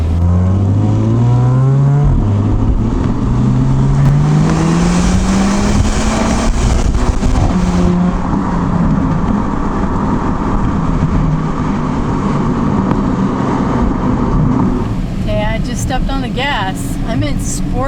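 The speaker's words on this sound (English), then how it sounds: "Let's see what that exhaust sounds like." A 2018 Porsche Panamera 4 E-Hybrid's exhaust revs repeatedly, pitch climbing and dropping in loud rising sweeps, heard close from inside or near the car.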